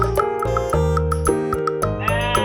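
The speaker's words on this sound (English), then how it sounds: "Sheep. S-H-E-E-P. Sheep. Lamb." Sheep bleating in repeated wavering calls, loud and close, with several bleats following one another without pause and no voices.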